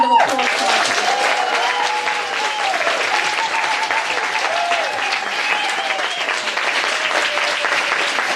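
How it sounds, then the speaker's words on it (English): An audience gives a panel a sustained round of applause at a book launch, the dense clapping steady and loud throughout with faint voices and cheers mixed in. "give a resounding round of applause to our panel"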